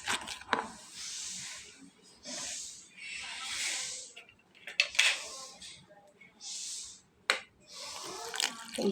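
Water is poured and stirred into a flour batter in a bowl, with repeated bursts of splashing and mixing at close range separated by short pauses, plus a few sharp clinks.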